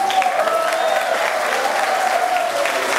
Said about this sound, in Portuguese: Mas vamos aplaudir.